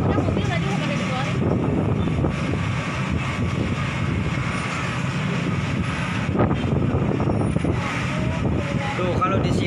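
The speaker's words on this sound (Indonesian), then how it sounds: "sekarang anginnya kayak gini tambah gede pak tuh anginnya gede" Strong wind buffets the microphone in a constant heavy rumble near a burning boarding house in South Jakarta, while people talk over it.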